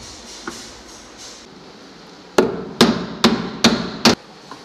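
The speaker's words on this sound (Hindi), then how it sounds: "मैंने जो है आधा पेच ठोक दिया है" A hammer drives screws halfway into a door hinge, five loud sharp metallic blows in an even rhythm after a few faint taps, close and alone.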